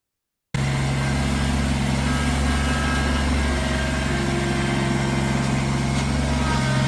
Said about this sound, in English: Kubota's getting lots of work.